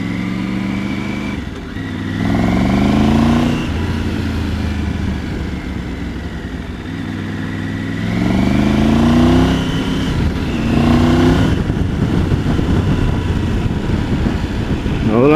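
A Triumph Tiger 900 GT Pro's engine pulls through low gears while riding, revving up in repeated rising sweeps between gear changes, close and loud over steady wind.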